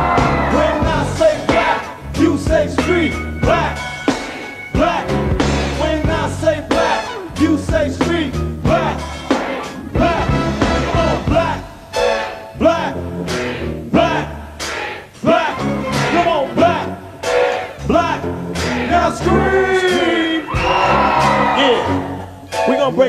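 An audience at an unplugged R&B concert yells, whoops and screams loudly, with thumping and a performer's voice calling out over the crowd noise throughout.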